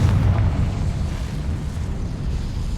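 A Confringo blasting spell from Hogwarts Legacy erupts in a loud, deep rumbling explosion whose booming roar fills the start, then settles into a sustained low rumble that lingers to the end.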